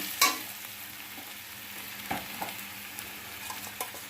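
A spice mix goes into a pan of fried potatoes with a brief louder hit, followed by a soft, continuous sizzle and scattered light scraping taps from stirring. No one speaks.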